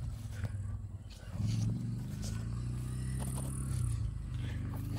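A quad bike (ATV) engine drones steadily on a hot outdoor track, a continuous low motor rumble that swells slightly as it comes closer, with no talk over it.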